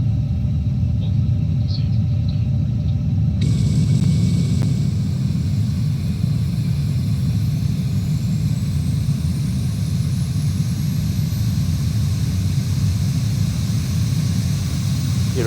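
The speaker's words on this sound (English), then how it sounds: "starting engine number 1." Engine start on an Airbus A350-900 in Microsoft Flight Simulator 2024, a steady low rumble and whine rising as a tone climbs slowly, loud and continuous with no talking.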